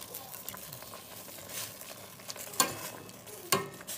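A spoon stirs wild sweet leaf curry with chili paste in a pot: a soft, continuous wet scraping and faint sizzle, quiet throughout, with two sharp clinks against the pot near the end.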